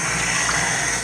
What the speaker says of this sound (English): You add a small amount of water. We're making a batter